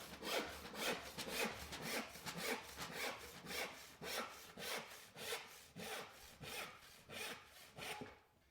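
A hand saw with a wax-lubricated blade cuts through wood in steady back-and-forth strokes, about fourteen rasping passes in a regular rhythm, close by with no talking.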